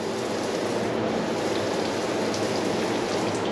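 Running water from a clean handicap shower stall at a campground in South Llano River State Park, a steady even hiss of spray falling on the floor, close and continuous with no talk.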